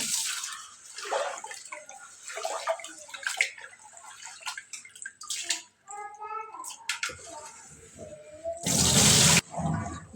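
Rice is washed by hand in water for homemade rice rava, giving close splashing and swishing, then a loud burst of pouring water near the end, with someone talking over the start.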